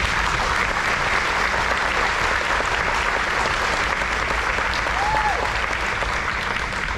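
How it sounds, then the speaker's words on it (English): Steady applause from the audience at a high school Navy JROTC change of command ceremony, a dense, continuous wash of clapping that stays loud and even throughout with no voices breaking through. "If we could please give them another big round of applause."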